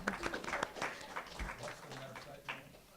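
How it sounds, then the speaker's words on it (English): Scattered applause from a small audience at a faith leaders panel, uneven clapping that is fairly soft and thins out quickly, with voices murmuring underneath. "let's clap it up for Rabbi Noah"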